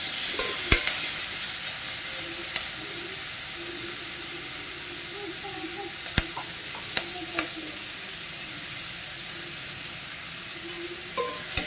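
A soft, steady sizzle comes from an onion-tomato paste being sautéed in a pan for a mixed vegetable gravy. A few sharp clicks of a spoon or spatula against the pan break the even hiss.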